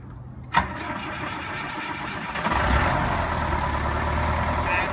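The engine of a US Jetting 4025 sewer jetter cranks and catches after a sharp click, then settles into a steady, close mid-pitched idle.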